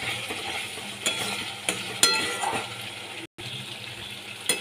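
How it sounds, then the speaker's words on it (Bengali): Katla fish pieces frying and being stirred in a spiced masala with Kashmiri chilli powder, a steady close sizzle broken by a few sharp scrapes and clinks of a spoon against the pan, with no talking. "মাছগুলো দিয়ে আবারও কষাতে হবে।"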